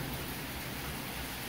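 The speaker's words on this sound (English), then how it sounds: "the rain is coming sideways." Rain driven sideways by wind on a street, a dense steady hiss of falling water filling the clip with constant broadband noise and no pauses or voices.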